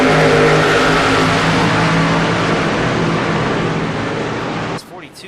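A pack of race cars roars loud and close at a green-flag restart at Phoenix International Speedway during a Busch series race, engines held in a dense, sustained rev before the sound abruptly cuts away.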